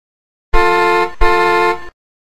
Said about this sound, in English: Hear that honking sound?